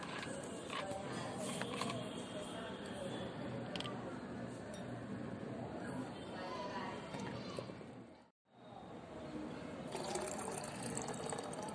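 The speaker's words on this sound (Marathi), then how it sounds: "आता त्याच प्रकारे ही बॉटल भरून पाहूया." Water pours steadily into a bottle, a continuous gurgling rush that breaks off briefly near the end before resuming.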